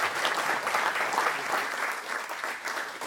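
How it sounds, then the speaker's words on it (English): Conference audience applause, a short burst of many hands clapping in a hall, fairly even and moderately loud, easing slightly toward the end. "Please give a big round of applause."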